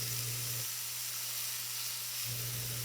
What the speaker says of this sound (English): I'm going to flip the steaks over every minute, cooking them evenly from both sides